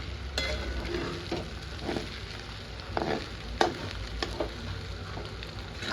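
Sabudana khichdi is stirred and mixed in a pan, with soft frying sizzle under repeated scraping and clacking strokes of a spoon at an uneven rhythm, close by and with no talking.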